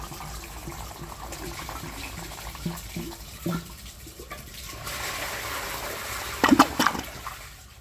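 A 1935 Standard Siacto toilet flushes, with a low, fairly quiet rushing of water that swells midway, then splashes and gurgles near the end.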